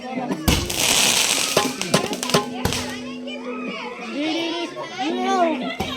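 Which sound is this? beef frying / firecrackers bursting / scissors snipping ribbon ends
firecrackers bursting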